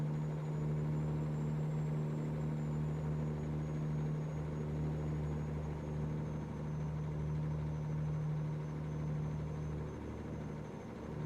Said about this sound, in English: You hear that little clinking, chugging kind of sound? Like something's loose, rattle kind of sound?